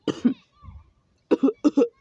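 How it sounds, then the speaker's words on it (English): A person in a hot car coughs in short, close, fairly loud bursts: a double cough, then a quieter low sound, then two more paired coughs after a pause. "Cough, cough."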